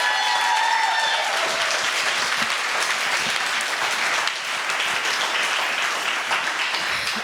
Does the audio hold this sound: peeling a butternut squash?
no